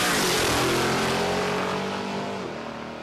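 A drag racing car at an NSW championship grand final roars hard off the start line, a loud, dense engine blast that stays strong and then slowly fades as the car pulls away, with no talking over it.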